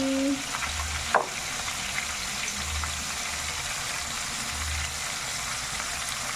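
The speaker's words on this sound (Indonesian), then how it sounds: "Kalau sudah lepas seperti ini, kita selanjutnya menggoreng lagi." Shrimp fritters (heci udang) fry in hot oil with a steady, dense sizzle that runs throughout. Early on there is one brief utensil clink, and a low rumbling hum pulses underneath.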